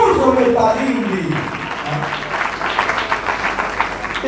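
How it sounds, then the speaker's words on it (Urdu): Loud applause fills a church after the pastor's sermon, with dense clapping building and holding steady after an opening stretch of the preacher's amplified voice. "آئیے زوردار تالیاں بجائیے مسیح کے لیے"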